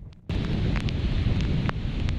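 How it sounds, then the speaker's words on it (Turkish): Strong wind on a beach in Muğla, Turkey, whipping up huge waves: harsh roaring gusts buffet the microphone after a brief quieter start, with scattered higher crackles over a dense, loud rumble. "Şiddetli rüzgar plajda dev dalgalar oluşturdu."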